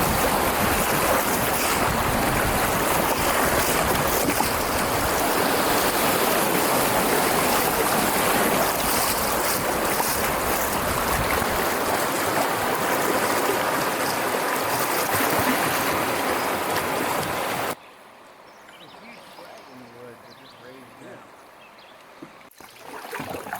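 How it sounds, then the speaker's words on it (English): Rapids on the Clarion River rush loudly and steadily for most of the stretch, a broad roaring wash of moving water with wind buffeting, before dropping abruptly to a much quieter low murmur near the end. "this is the Y Rapids coming up"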